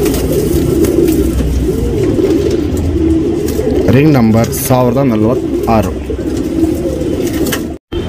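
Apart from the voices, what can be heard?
tournament pigeons cooing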